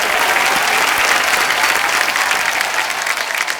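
A studio audience at a Hindi comedy talk show bursts into loud, sustained applause, a thick wash of clapping from a large crowd that holds steady throughout with no talk over it.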